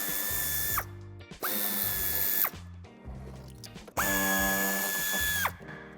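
Cordless power tool spinning out wheel arch screws on a SEAT Leon estate, three loud close bursts of whirring motor with ratcheting clatter, separated by short pauses, no talk.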